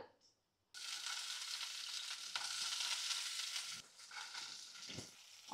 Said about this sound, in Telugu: ఆయిల్ హీట్ ఎక్కేసింది ఆనియన్స్ జీడిపప్పు ఈ రెండు వేస్తున్నాను ఫస్ట్